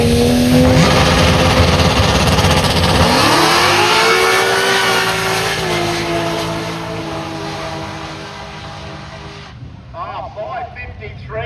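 A dual-purpose multi-category race car's engine roars loudly and climbs in pitch as it accelerates at a race meeting, then fades away into the distance.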